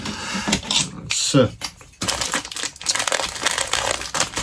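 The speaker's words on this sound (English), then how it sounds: "Let's get this very loud piece of cellophane undone." A loud, crinkly cellophane bag holding a MiniArt diorama accessory set is pulled open by hand, with bursts of crackling and crumpling close up over several seconds.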